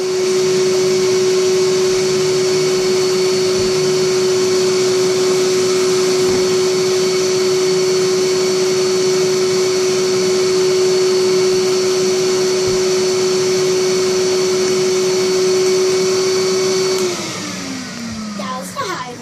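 A Hyla vacuum cleaner running close by with a loud, steady motor whine and strong airflow hiss, holding constant before winding down in pitch near the end.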